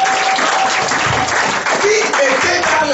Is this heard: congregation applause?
yes